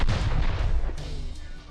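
An eruption at Mount Stromboli volcano sounds as a deep, continuous booming roar with rumbling surges, loud and dense throughout.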